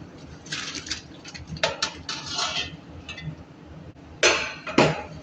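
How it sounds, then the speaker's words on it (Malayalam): Pieces of fish going into a simmering curry in a pan, heard as scattered clinks and scrapes of utensils and pot with soft splashes, close and moderately loud, with no talk. "അപ്പം നമുക്ക് ഇതിലേക്ക് ഇനി മീനിടാം"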